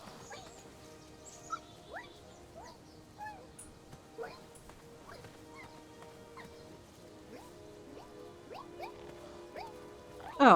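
Dogs bark and yip repeatedly in the King's Quest adventure game, sharp irregular barks and whimpers at moderate distance under a quiet ambient backdrop, with a louder burst at the very end.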